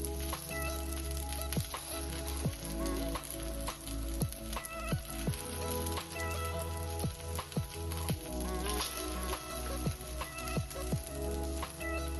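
Erappe batter frying on a hot, oiled tawa gives a steady close-up sizzle, dotted with scattered sharp pops and crackles throughout.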